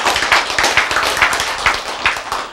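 An audience at a lecture claps in quick, irregular bursts, a few seconds of close, lively hand claps with no voices.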